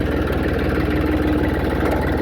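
A tractor engine running close by, a loud, steady low chugging with a regular pulsing beat that holds unchanged for the whole stretch, with no voices over it.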